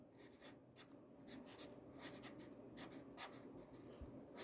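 A pen writes across a drawing surface during a one-point perspective lesson, giving quiet, irregular scratchy strokes in short bursts, close and faint, with no talking.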